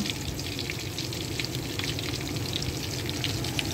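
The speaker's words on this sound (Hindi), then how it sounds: "मुझे कबाब वगैरह फ्राई कर दो तो मैं उनके लिए वो फ्राई कर रही हूँ" Kebabs fry in a pan at dinnertime, producing a dense, even crackling sizzle with fine spitting pops that continues steadily throughout, close by and with no voices.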